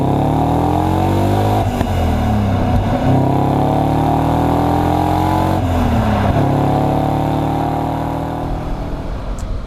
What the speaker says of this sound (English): we'll give it a pull through the gears and just see how it goes and what it sounds like